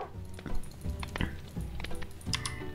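Dog in a video game gives a run of short barks and yips, close and repeated in quick bursts, with sporadic clicks in between.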